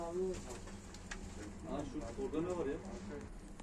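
Turkish play pigeons at a live auction cooing, a steady run of soft, throaty coos close by, with someone talking over them.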